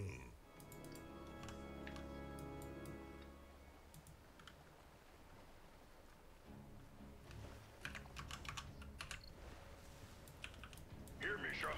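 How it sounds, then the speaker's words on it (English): Computer keyboard typing at a gaming setup during a Heroes of the Storm match, with bursts of clicky keystrokes over game music and a talking voice, growing busier toward the end. "Do you guys like keyboard sounds?"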